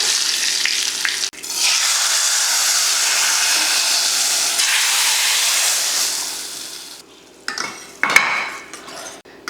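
Hot tempering of mustard seeds, urad dal, curry leaves and asafoetida poured into a ridge gourd kadayal, with a loud, dense sizzle that holds for several seconds and then fades. A few utensil clatters and scrapes follow near the end.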